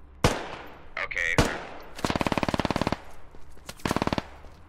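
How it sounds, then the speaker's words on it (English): An MG3 machine gun fires in the video game Squad. It lets off rapid, evenly spaced bursts, loud and close, with a couple of separate single shots before them and a shorter burst near the end. "MG3 being fired at a position near here"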